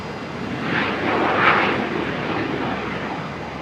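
A Qantas airliner rolls down the runway at Brisbane Airport on takeoff, a loud, steady broadband engine roar that swells slightly midway and holds throughout with no talk.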